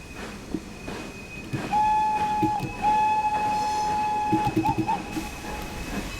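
Fowler 4F steam locomotive on the foggy Buxton branch toward Chinley in a British Railways train simulator, with a long steady whistle-like tone, a rumbling run, hissing and a few short chirps near the end.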